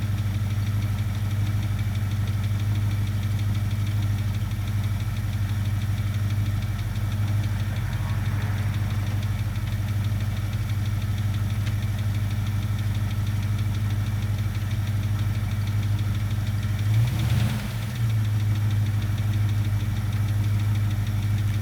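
1967 Ford Mustang engine idling steadily with a low, knocking rumble while being shifted into reverse, a brief clunk and surge around the shift, no voices.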